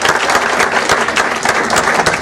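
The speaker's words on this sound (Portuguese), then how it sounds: "Palmas para o professor Vandré," An audience applauds steadily at a quiz competition between champions, a dense, loud wash of clapping that holds level throughout with no voices over it.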